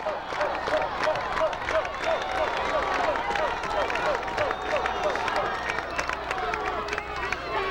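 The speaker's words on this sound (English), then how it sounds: "now the crowd is even more electrified" A high school football crowd cheers and claps steadily in a stadium. The roar of the stands stays dense and continuous, and a commentator's voice talks over it.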